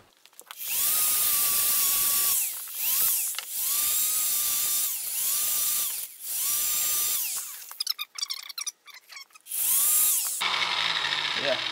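A grinder fitted with a flatter disc grinds down a weld on a VW T5 hub modification, running in several loud sustained bursts of high-pitched whine, followed by brief scraping and clattering.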